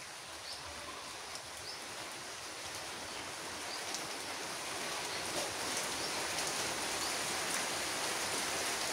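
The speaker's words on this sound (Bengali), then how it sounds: "শুরু হয়ে গেল বৃষ্টি" Light rain beginning to fall on a rainy day, a steady close hiss of drops that grows slightly denser and louder as it continues, with no voices over it.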